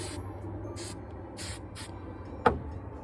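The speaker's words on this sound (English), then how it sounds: "Spray some on the inside. Spray some on the handle." Several short hissing spritzes from a spray bottle onto the inside of a handlebar grip and the handlebar, four quick bursts in a loose rhythm, close by, followed by a single sharp click.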